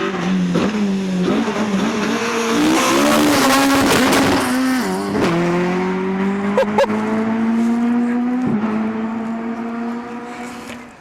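Hillman Avenger 2 litre rally car tearing through a forest stage at the East Riding Stages Rally, the engine loud and close as it revs hard and shifts through gears, pitch climbing and dropping before fading away.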